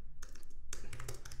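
Typing on a computer keyboard, a quick run of light plastic key taps in an irregular rhythm, close and fairly quiet, with no voices.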